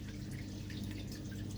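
Water drains from a Beko 6kg washing machine running its test mode, a steady trickling and dripping over a constant low mechanical hum, faint and continuous.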